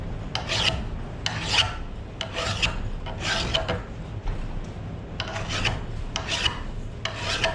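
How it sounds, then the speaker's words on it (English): A hand metal file rasps across the head of an old, pitted sledgehammer in a steady back-and-forth rhythm of about a dozen close, gritty strokes over a low background hum, with no talking. "take my file. And start filing this as kind of as flat as I can get it"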